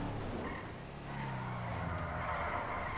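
A car in the GTA driving game accelerates and skids, its engine droning steadily while tires squeal and scrub across the surface, fairly loud and continuous.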